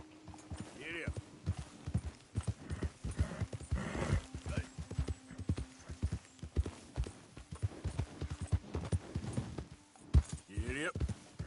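Horse hooves clip-clopping in Red Dead Redemption 2 on PS4, a steady run of close hoofbeats with a whinny near the start and end, while a voice talks over them.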